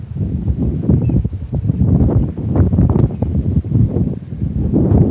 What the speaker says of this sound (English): That's why it's so windy.